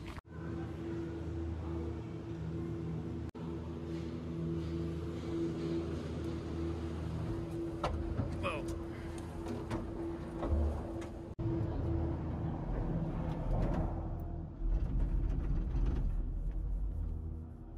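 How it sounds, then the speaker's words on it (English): Continuous low mechanical rumble and hum of a cable car ride up a mountain to a viewpoint in Vermosh, Albania, steady throughout with faint creaks and clunks and occasional soft background voices. "So this is a cable car. Takes us up to a good viewpoint."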